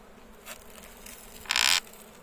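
Honey bees buzz at an open beehive in Istanbul during a winter hive check, with a few short passes near the microphone, the last one loudest, over a quiet background.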